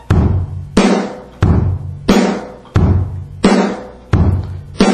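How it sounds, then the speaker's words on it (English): A drum set plays a steady beat with bass drum and snare drum hits, six evenly spaced punchy strikes that ring briefly, close and loud with no talking. "You have your bass drum and snare drum on 1, 2, 3, and 4."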